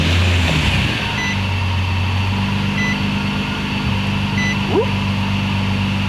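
Swapped VQ35DE V6 in a Nissan G35 with a new exhaust, running close and loud: a steady, droning idle with a low rumbling hum and no pauses throughout.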